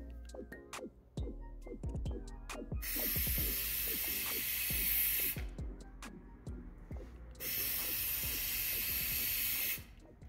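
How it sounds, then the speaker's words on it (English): Small handheld spray gun applying a Plasti Dip coat to a Chrysler 300 trunk badge, with two long steady hissing bursts separated by a pause, up close and loud, among clicky handling noises before the first burst. "got my little spray gun. Just makes it easier to spray so it doesn't put a lot of wear on my fingertips."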